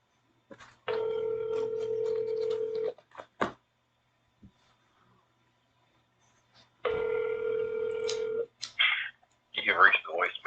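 A telephone rings back while a call to a sheriff's office is being transferred: two long, steady ring tones separated by a stretch of silence, then a voice begins speaking at the end.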